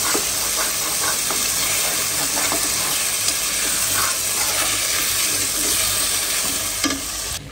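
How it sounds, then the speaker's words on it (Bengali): Lentils are rinsed by hand in a pot of water, making a continuous close swishing and sloshing with small grainy clicks, steady and fairly loud throughout, with no talk. "ডালটা ধুয়ে দিই"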